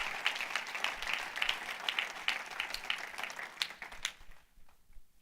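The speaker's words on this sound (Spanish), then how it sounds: "Dele un fuerte aplauso al Rey de la Gloria conmigo." A church congregation applauds steadily for about four seconds, a dense wash of hand claps that fades out quickly near the end.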